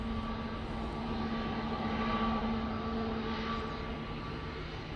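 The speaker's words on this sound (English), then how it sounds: "it's heavy on the reverses there for the Cathay" A Cathay Pacific airliner landing at Manchester Airport with heavy reverse thrust, giving a loud, sustained engine roar with a steady humming tone that holds throughout, no voices present.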